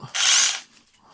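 A Bosch GBH 180 LI cordless rotary hammer drill runs in one short, loud burst of roughly half a second and then spins down, with no talk over it.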